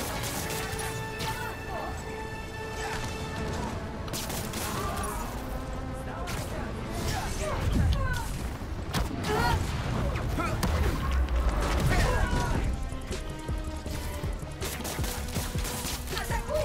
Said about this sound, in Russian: Так, кто там стреляет?